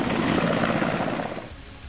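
An Mi-17 V5 military transport helicopter, a loud, dense, continuous rotor-and-engine roar close by that holds steady and then eases off slightly toward the end.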